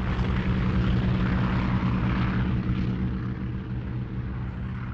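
Combat aircraft fly over during a napalm attack on Chinese troops: a loud, steady engine drone with a strong low hum, slowly fading as the planes pass, with no voices.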